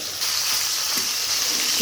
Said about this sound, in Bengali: এবার আমি উল্টে দিলাম ভালোভাবে কিন্তু মাথাগুলো ভেজে নেব